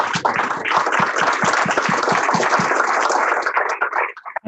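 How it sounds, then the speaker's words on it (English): Audience applause after a mayoral election debate hosted by a local Tea Party group, a dense steady wash of clapping with a few louder rhythmic claps standing out, stopping abruptly near the end. "Give them a round of applause."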